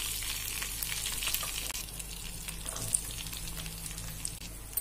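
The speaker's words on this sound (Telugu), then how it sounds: "ఆయిల్ వేడెక్కిందండి, షాజీరాని యాడ్ చేస్తున్నాను, వెల్లుల్లిని యాడ్ చేస్తున్నానండి" Shahjeera and garlic sizzle in hot oil in a pan, a steady close crackling hiss with scattered pops that runs the whole time without talk.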